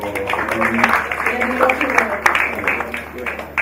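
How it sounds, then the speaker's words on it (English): An audience gives a round of applause at an event, the dense patter of many hands clapping continuously at close range. A voice speaks over the clapping. "Please, a round of applause for"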